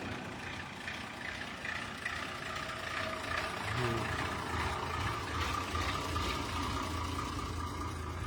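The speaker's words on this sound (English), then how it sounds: "see how many trucks I can film leaving. Here's one right now." A haulage truck from a Coventry gravel and aggregates haulier pulls out of a commercial vehicle show, a low engine rumble heard at moderate distance amid outdoor crowd noise.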